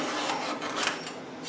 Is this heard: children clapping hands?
no